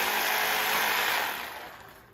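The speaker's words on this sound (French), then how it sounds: "Tu peux nous expliquer, Pierre, pourquoi tu coupes du coup à l'envers avec ta scie sauteuse?" A jigsaw cutting upside down through 16 mm wood gives a dense, steady high-pitched buzz up close, then fades off over the last second as the cut ends.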